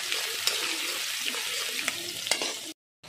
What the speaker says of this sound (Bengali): প্রথমে আমি পেঁয়াজটা তেলের মধ্যে ছেড়ে দিই